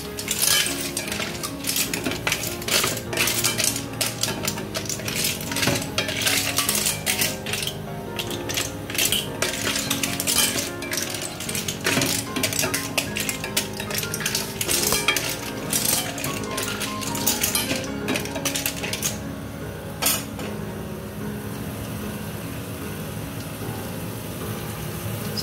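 Stir-fried clams with preserved black beans and fresh chili being tossed in a pan: constant rapid clinking and clattering of shells and utensil against metal, fairly close, with a softer hiss at the end.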